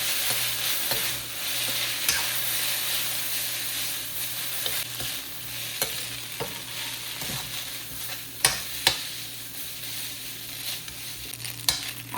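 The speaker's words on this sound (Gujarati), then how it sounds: "હવે નાખીશું નૂડલ્સ ચલો હવે નાખી નૂડલ્સ" Jain noodles stir-fried in a pan make a steady, close sizzle with scraping stir strokes and a few sharp clinks of utensil on metal, and no one speaks.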